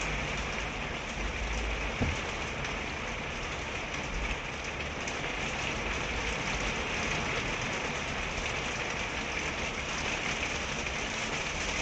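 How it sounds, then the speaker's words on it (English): Rain mixed with hail falls in a steady, even hiss that fills the whole span, with a few faint thuds underneath and no voices. "Hopefully you can hear it's hailstoning. It's raining and then it's hailstoning."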